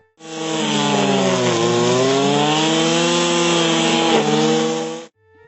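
A brush cutter fitted with a nylon rope cutting head, the line 2.7 to 3 mm thick, runs at a steady high whining drone for about five seconds, loud and close with no speech.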